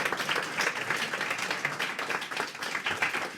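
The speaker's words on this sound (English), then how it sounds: "Round of applause for our volunteer" A small audience claps for a volunteer in a brief, lively burst of applause, close and fairly dense, lasting only a few seconds.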